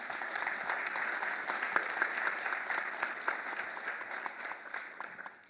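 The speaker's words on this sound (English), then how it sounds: "give Virginia a round of applause" An audience at the Young at Heart Senior Enrichment Center gives a round of applause. The clapping is dense and continuous and fairly close, fading slightly toward the end.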